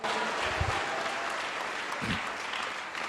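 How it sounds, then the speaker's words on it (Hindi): Congregation applauding with hand clapping during a sermon, a dense, continuous roar of many clapping hands that holds steady throughout. "तारीफ करो ताली बजाकर"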